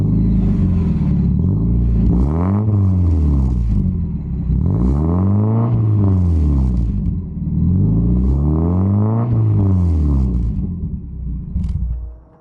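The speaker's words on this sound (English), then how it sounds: "I will insert an exhaust clip right now." A modified Mazda Miata engine revs repeatedly, rising and falling in several loud bursts with a raspy exhaust rumble, close by and without talk.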